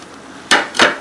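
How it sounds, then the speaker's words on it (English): Lemon juice and zest land in a blender with two quick, sharp knocks about a third of a second apart, close and clear over a low background hiss. "I'm going to just drop that right down into the blender here."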